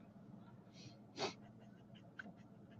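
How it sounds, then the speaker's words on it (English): Allergy sniffles come through as a few short, faint nasal intakes over a quiet room, with one sharper sniff standing out in the middle. "Excuse my sniffles coming on. Apparently my allergies are aggravated."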